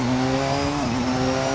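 A Porsche 919 Evo race car accelerates hard under hybrid boost out of a curve, its engine a loud, close, steady high-pitched whine that dips briefly with a gear change, then climbs again.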